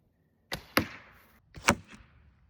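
A test-shot wooden arrow fletched with chicken feathers flies past with a few sharp whooshing bursts, two close together and then two more, nearby and alone with no talk.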